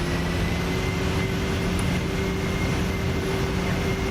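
An airliner rolls down the runway for takeoff in the Prepar3D v4.2 flight simulator, a steady, even engine roar and rumble that stays constant and loud, with no talking.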